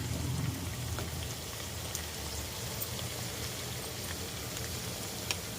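Ground gongura leaves go into a pan of chicken curry with onion and ginger-garlic paste, giving a steady, dense sizzle and crackle that runs evenly throughout with no talking.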